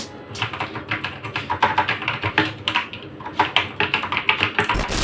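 Rapid typing on a mechanical keyboard with lubed blue switches: dense, irregular clacks and key taps running continuously, close and fairly loud, with no voices.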